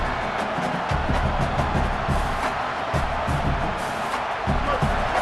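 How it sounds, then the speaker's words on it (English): Stadium crowd in the College Football 27 video game, a steady dense roar of many voices through a road game, loud and continuous with pulsing swells. "This crowd bringing the energy and noise early."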